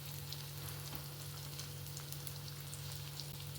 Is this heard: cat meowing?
no